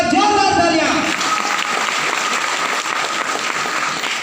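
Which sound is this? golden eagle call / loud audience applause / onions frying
loud audience applause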